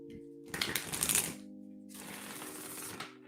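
Tarot cards being shuffled by hand, two quick riffling bursts close up, with a steady low hum underneath between them.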